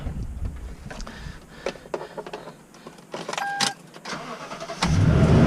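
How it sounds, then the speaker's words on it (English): Toyota Tundra pickup truck starting: faint clicks and handling sounds, then the engine cranks and catches into a loud, steady running roar near the end. "And then we also have to start our truck"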